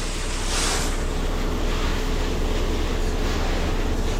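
Water sprayed as a fine shower onto a freshly pumped shotcrete swimming pool wall, a steady, loud, broadband hiss that runs unbroken throughout.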